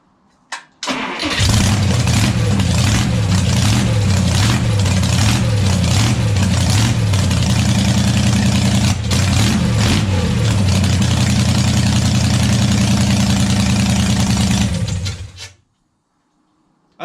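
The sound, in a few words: car engine idling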